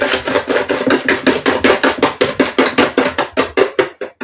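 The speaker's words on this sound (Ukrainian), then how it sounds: "І збиваю це все вінчиком до побіління цукру з яйцем." A whisk beats eggs with vanilla sugar in a bowl, giving fast, evenly spaced rhythmic clacks, roughly five per second, loud and close, continuing steadily for about four seconds with no talking.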